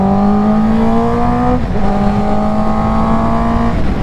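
A superbike with a quickshifter accelerating hard on an expressway, loud steady engine drone rising in pitch, a brief dip as it shifts gear, then climbing again under constant wind rush.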